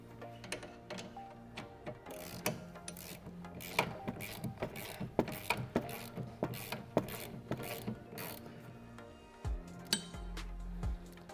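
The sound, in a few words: tightening nut on Mustang upper control arm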